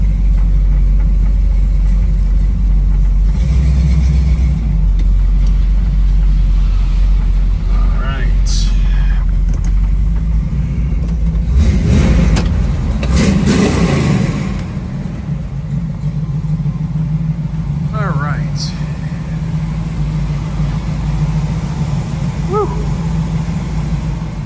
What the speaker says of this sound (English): we're gonna back out of the building and we're gonna go for a nice test drive